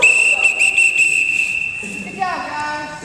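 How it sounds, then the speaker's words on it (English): Sharp, shrill whistle blown in a gym class, held in long piercing blasts for over a second and then fading, with voices in the background. "Blow your whistle."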